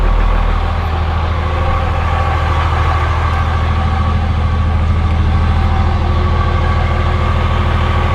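A truck engine with a muffler and large injectors idles with a deep, steady rumble and low throbbing exhaust, loud and close, with no talking.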